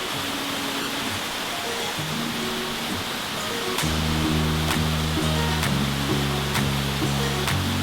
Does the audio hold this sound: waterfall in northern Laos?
yes